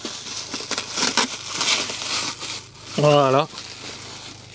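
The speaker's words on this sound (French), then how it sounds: "Une machine à café Nespresso qui est juste ici. Hop, on va la déballer ensemble," Crinkling, rustling plastic and cardboard as a new Nespresso coffee machine is unwrapped inside a VIP Mercedes V-Class van, several crisp bursts close by, followed by a short spoken word.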